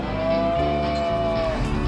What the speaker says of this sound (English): the calves feel it because a lot of times they beller out